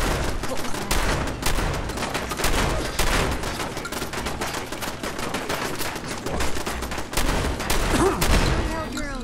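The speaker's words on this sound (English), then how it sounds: "that was a Mark III machine gun turret" Mark III machine gun turret in Fallout 4 rattling out sustained automatic bursts during a fort assault, loud, dense and continuous, with rapid overlapping shots throughout.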